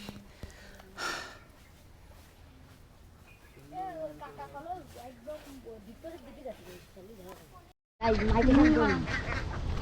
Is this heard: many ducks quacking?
yes